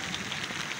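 Heavy rain pours steadily in Jhelum, Pakistan, a dense, continuous hiss of drops drumming on surfaces close by, with no voices.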